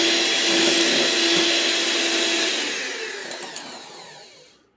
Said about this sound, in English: Now I'll run this beater for a little bit.